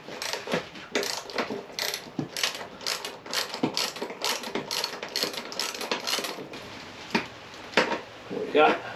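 Close ratchet clicking in repeated bursts as a 12mm bolt is loosened during a fuel pump replacement, the pawl ticking in quick runs with brief pauses, and a voice speaks intermittently between the strokes.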